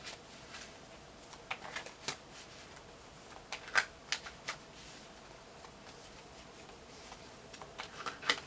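Tarot cards are shuffled and drawn by hand, making faint, scattered papery flicks and soft taps close by in an otherwise quiet room.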